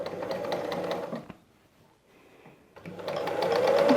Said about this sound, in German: Und nähen unsere Naht